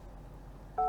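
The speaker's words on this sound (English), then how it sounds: "I'm just gonna push and twist left into reverse, and you get this beep" Reverse-gear warning beep inside a 2023 Lexus RZ 450e electric SUV, a single clear electronic tone starting near the end of the clip over quiet cabin hush.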